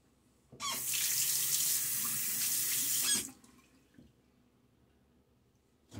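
A bathroom tap runs steadily for about two and a half seconds for the final rinse after a wet shave, then shuts off, followed by a few faint drips and small handling sounds.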